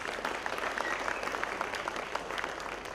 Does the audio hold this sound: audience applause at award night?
yes